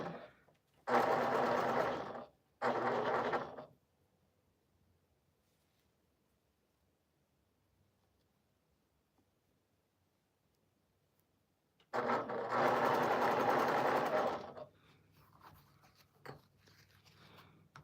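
A sewing machine stitches quilt pieces in short bursts, two quick runs then a longer steady whir after a long quiet gap, close and clear with faint handling noises afterward.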